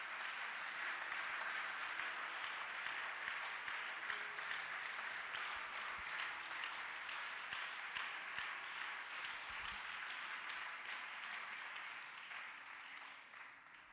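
A church congregation at a Sunday worship service claps and applauds for the Holy Spirit, a dense, sustained wash of many hands that stays loud for the whole stretch and eases off slightly at the end.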